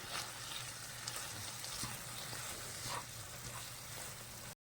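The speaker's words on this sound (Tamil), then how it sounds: "இப்போ நம்ம வதக்கிக்கலாம்" Masala for chicken chukka sizzles and fries in a pan, a steady close crackle with occasional stirring scrapes, no voices.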